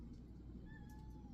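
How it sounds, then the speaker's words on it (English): Cat meowing indoors, a short, faint rising-and-falling meow over a low background hum. "Stop meowing so much."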